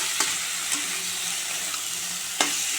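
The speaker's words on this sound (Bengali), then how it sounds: "নেড়ে চেড়ে দেবো ভালো করে।" Cooked taro stolons (lati) are stirred in a pan, giving a steady low sizzle with three sharp taps of the spoon on the pan.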